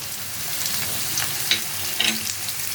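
Chopped garlic dropped into hot oil with potato pieces for a fish-head curry, giving a steady close sizzle with a couple of brief louder crackles from stirring.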